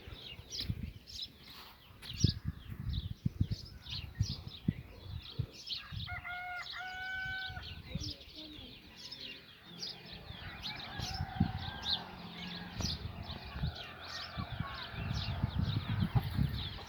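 Chickens on a farm cluck in scattered bursts among chirps and a few wing flaps, fairly close, with a brief bright whistle-like call partway through and steady ambient noise throughout.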